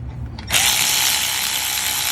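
Tightening brake caliper bolts on a Hyundai Elantra during a pad and rotor change: after a quiet half second, a close, steady, bright mechanical whir runs to the end.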